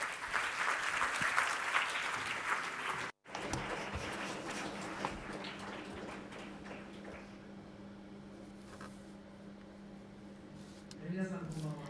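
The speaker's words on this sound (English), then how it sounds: "Ladies and gentlemen, please welcome him with a warm round of applause." Audience at a public forum event applauds a foreign affairs minister walking on stage, steady clapping that cuts out for a moment, then continues more faintly over a low hum before tapering off.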